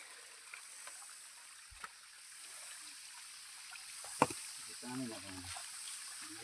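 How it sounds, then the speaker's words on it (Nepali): Spring water runs past a village drinking-water tank as a steady, soft rushing hiss through the whole stretch, with a few brief voices and knocks over it. "पानी यताबाट गइरहेछ, यो पानी खानुपर्ने हो।"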